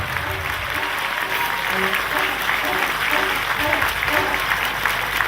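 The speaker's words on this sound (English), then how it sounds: "let's have a real big round of applause for my partner in this, Mr. Roger Wilde" Crowd at a country music festival giving a big round of applause, dense continuous clapping at steady volume with a voice faintly underneath.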